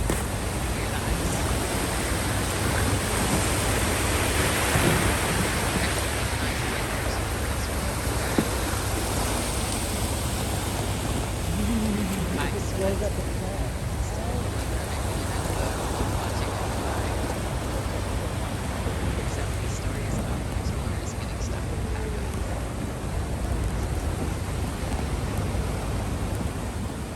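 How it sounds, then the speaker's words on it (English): Sea ice crackles and scrapes against the hull of a boat sailing through Arctic ice, a constant dense rushing hiss with faint pops throughout, steady and fairly loud. "Here the thunder is. It hits the side of the boat."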